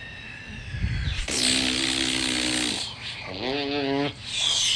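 A voice imitates an A-10 Warthog jet with a loud, rough, buzzing rasp, sustained for several seconds with a wavering, pulsing section in the middle.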